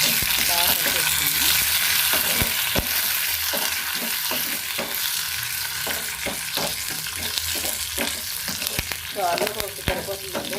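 Onion pieces, a dried red chili and curry leaves fry in hot oil as a tempering for tomato rasam, producing a close, steady sizzle broken by repeated sharp clinks and scrapes of stirring.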